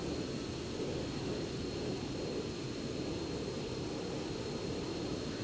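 Jet engines of the A-164 Wipeout attack aircraft in the game ArmA 3, a continuous loud roaring rumble with a steady high whine, unbroken throughout and no voices.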